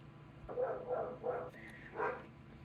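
A dog barks several times in a quick series, then pauses and gives one more bark, fairly faint and a little distant.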